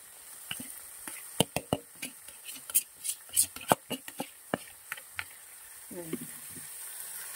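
A Bengali banana flower (mocha) curry on the stove as the chopped mocha goes into a hot pan, sizzling and frying with scattered knocks and stirring clatters, close and moderately loud, under a quiet voice.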